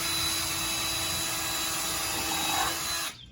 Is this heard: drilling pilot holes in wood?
yes